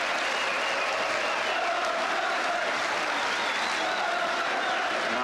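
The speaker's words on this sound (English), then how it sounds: "listen now to the applause as Charlton leaves league football" Crowd at a 1972-73 First Division football match between Chelsea and Manchester United applauding as Charlton leaves league football, a sustained, even roar of clapping across the stadium.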